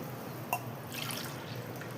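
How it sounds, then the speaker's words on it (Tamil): Liquid pours into a pressure cooker while prawn biryani is being made, water and coconut milk going in with a brief drip near the start and then a soft, close trickling splash. "இப்போ நான் தேங்காய் பால் ரெண்டு அதாவது ரெண்டு கப்புக்கு மூணு கப்பு ஊற்றணும் தண்ணி"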